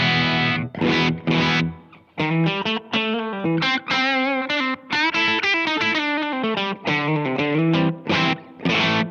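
Electric guitar runs through an amp modeler's Vox-style cab model with room reverb, playing a lead melody of distorted notes and short chord bursts with small gaps between phrases.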